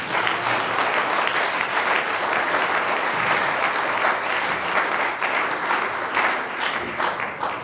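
A church congregation applauds, a dense and sustained round of clapping that stays loud and even throughout, with faint voices mixed in.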